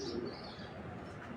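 Red checker racing pigeons from a club loft give soft, low cooing and chirps, blended into a steady noisy background with no clear separation of individual calls.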